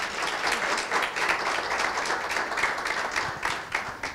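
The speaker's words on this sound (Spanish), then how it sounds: "Entonces le damos un fuerte aplauso." An audience gives a dense, sustained burst of applause at the end of a university talk on publishing scientific articles, with many hands clapping continuously at a loud, even level.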